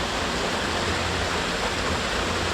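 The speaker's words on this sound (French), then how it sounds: "Nous voilà à la cascade de Chicosa." A waterfall in a gorge in Auvergne roars with a steady, dense rush of falling water, loud and unbroken throughout with no voices.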